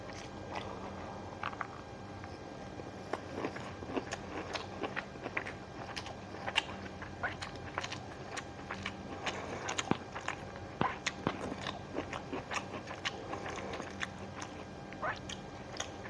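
Someone eating a rice bowl with pickled chili up close, soft moist chewing and small clicks and crackles in a steady irregular rhythm, quiet and without talk.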